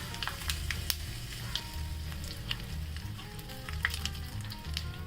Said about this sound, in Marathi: तडक्यासाठी मी तेल गरम करून घेतलेलं आहे बघा याच्यामध्ये थोडं जिरं घालते आणि लाल मिरची